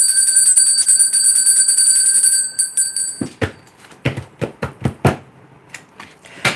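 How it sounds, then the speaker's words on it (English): A bell rings with a sustained, shimmering high tone for a few seconds, then gives way to a series of sharp tapping clicks. "Just gonna ring the bell, Virgo, right?"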